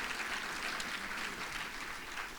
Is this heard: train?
no